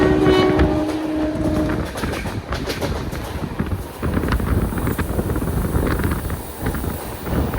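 Loud, continuous rumble and rattle of a moving Ernakulam–Mumbai LTT Duronto Express passenger train, heard from a sleeper-class coach, with rhythmic clacking over the rails and a horn sounding briefly near the start.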